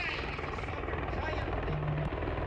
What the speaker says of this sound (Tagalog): Nabulabog ng ingay ng helicopter ang paligid ng Kingdom of Jesus Christ compound